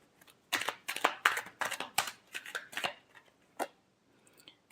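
Tarot cards riffle and slap in a quick burst of shuffling strokes, close and crisp, then a couple of isolated card snaps in a quiet room.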